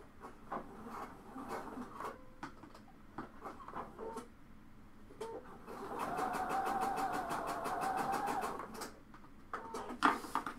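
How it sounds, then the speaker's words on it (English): A sewing machine runs in a steady mechanical whir for a couple of seconds while backstitching a seam on a blouse, preceded and followed by softer handling noises and clicks, close up with no talk. "I'm going to backstitch here because there's nothing that's going to come over it to secure the stitch"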